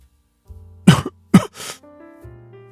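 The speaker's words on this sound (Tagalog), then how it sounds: "Habol-habol ang kanyang paghinga kasabay ng pag-ubo." A man's harsh coughs with labored, gasping breathing, two sharp bursts then a rougher one, close and loud against a quiet background with a low hum.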